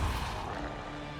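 The Depulso spell is cast in Hogwarts Legacy, a dense, loud blast that starts at full force and rumbles on with a heavy low boom, slowly thinning over about a second.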